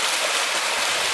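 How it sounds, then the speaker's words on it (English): Water rushing steadily after rain, a dense, even hiss like a flowing stream or small waterfall, close and continuous for the whole brief moment. "all that remains is the sound of water and the peace they've been chasing."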